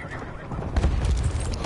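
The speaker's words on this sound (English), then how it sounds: "Horse, horse." A horse whinnies amid Battlefield 1 game sound effects and hoofbeats, played on PS4 Pro, with a voice talking over the mix.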